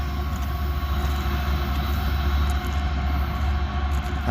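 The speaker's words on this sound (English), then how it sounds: "it sounds like he's pushing, but he's supposed to be in dynamic brakes because they're going downhill." Kansas City Southern locomotives rolling downhill in dynamic braking, a steady deep rumble and engine drone with a broad whine, loud and close, holding even throughout with no voices.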